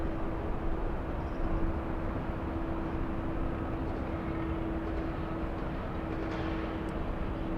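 An airliner bound for Boston lines up on an LAX runway, its engines a steady low rumble with a constant hum, heard from a distance and unbroken throughout.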